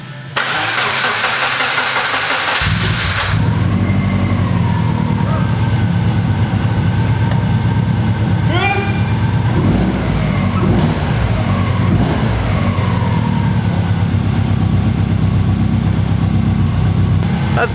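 A Subaru WRX GC8 being built into a track car idles steadily and loudly close by after starting at the beginning, with a constant rumbling drone and a brief whine partway through.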